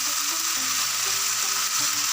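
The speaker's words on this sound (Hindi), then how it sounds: "हल्का सा इसको ज़रा तेज़ हाथ से चला लेंगे ताकि ये भुन जाए" Okra being stir-fried for bhindi masala gives a steady, loud sizzle in a pan, with faint scraping of stirring running through the whole stretch and no voices.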